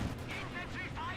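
Tank guns fire during a Company of Heroes 2 battle, with booming shots and dense battle noise filling the whole moment, loud and continuous, while a commentator speaks over it.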